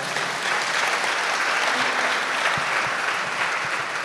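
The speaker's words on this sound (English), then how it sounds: "that's worth another applause" An audience claps in continuous, dense applause that holds evenly throughout, loud and unbroken, with no talking over it.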